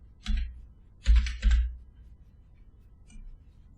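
Close keystrokes on a computer keyboard come in a few short bursts: a quick cluster, two tight groups a moment later, then a faint single tap near the end, with quiet pauses between.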